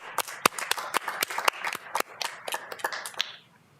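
Scattered hand claps from a small audience at a Southeast Tech school board meeting, a few sharp irregular claps that thin out and fade after about three seconds in a quiet room.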